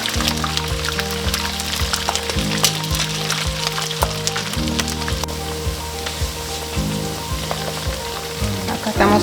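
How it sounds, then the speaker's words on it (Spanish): Steady crackling sizzle of potatoes frying in hot oil, continuous and close, with no talking. "Estamos friendo las papas"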